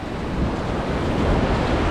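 Ocean surf rolls in at Pina beach in Recife, a steady loud roar of waves mixed with strong wind buffeting the microphone.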